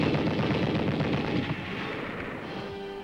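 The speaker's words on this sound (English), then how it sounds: "In addition to the M1 rifle, we learned to fire other infantry weapons." Dense, continuous gunfire from an M1 rifle and other infantry weapons on a military training range, rapid overlapping shots and rumbling booms blending into a heavy roar that eases slightly partway through.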